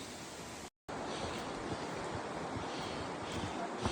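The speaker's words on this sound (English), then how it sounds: "Here's the waterfall." Steady, dense rushing water from a waterfall in Zion National Park roars close by, a continuous broadband wash with no voices.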